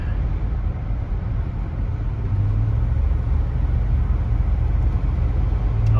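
A mail truck rumbles past outdoors, a steady low engine drone that swells slightly as it nears, with no voices.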